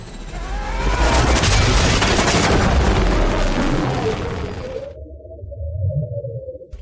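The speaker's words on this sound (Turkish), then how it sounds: "Son hatırladığın şey yüksek bir pervane sesi." Loud, dense whirring of helicopter rotors in a video game roars for several seconds, then cuts off abruptly, leaving a low rumble behind.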